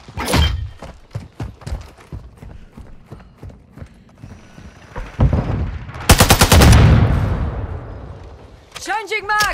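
Call of Duty MW2 hardcore domination match on the El Asilo map, with rapid bursts of loud automatic gunfire, thuds and explosions under excited shouting from players.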